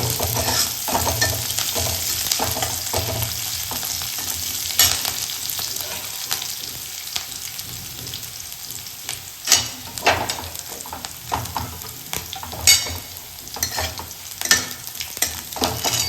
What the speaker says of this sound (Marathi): मिरची पण आपली फ्राय होते